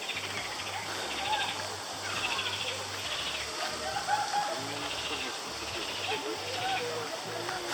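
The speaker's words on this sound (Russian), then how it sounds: "Лягушки орут." A dense outdoor night chorus of croaking frogs at an Ivan Kupala celebration in Zaprudnoe, Crimea, forms a constant, layered chirring that fills the background while people talk nearby.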